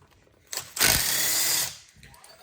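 A 12.8mm socket on a power tool spins out a turbo actuator bolt on a 6.0 Powerstroke diesel, a short close whir followed by a loud sustained burst of about a second that then cuts off.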